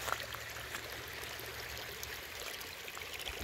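Storm rainwater runs down a driveway in Rhode Island, a faint, steady trickling and streaming wash with no voices.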